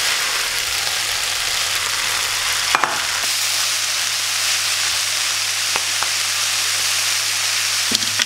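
Chicken and vegetables for spring roll filling sizzle in a frying pan, a loud, steady hiss of frying that lasts throughout, with a few faint stirring clicks.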